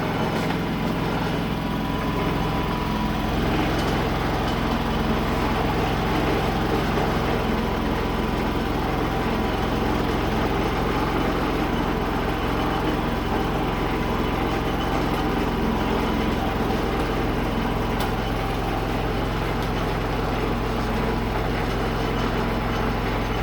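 A Predator 3500 inverter generator runs steadily with a continuous low engine hum and broadband noise, unchanging throughout and fairly close.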